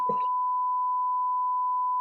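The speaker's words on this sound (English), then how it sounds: "I gotta beep all this out." A steady, loud pure-tone censor beep holds unbroken for about two seconds after a brief clipped sound at the start.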